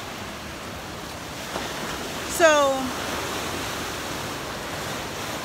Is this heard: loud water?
yes